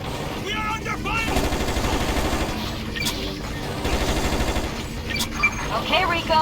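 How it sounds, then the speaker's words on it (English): Sustained video game gunfire rattles throughout, dense automatic bursts layered with vehicle engine noise and sharp cracks, loud and continuous with a voice talking over it. "We are under fire."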